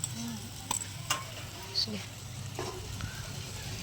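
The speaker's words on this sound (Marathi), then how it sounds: "आता कांदा भाजून घ्यायचा बघा लालसर होऊ द्यायचं" Onions and green chillies fry in a pan over an outdoor cooking fire, giving a faint, steady sizzle broken by a few scraping stirs of a spoon.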